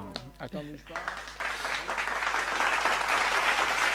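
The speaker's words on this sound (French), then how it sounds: "je pense qu'on peut l'applaudir bien fort." Audience applause after a performance on a French-language Télé Kréol entertainment show in Paris, starting after a few brief spoken bursts and swelling into a dense, steady clapping that fills the rest of the moment.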